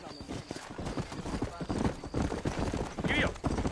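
Horse hooves clip-clop at a steady trot while riding in the video game Red Dead Redemption, close and clear, with a short whinny near the end and talk over the top.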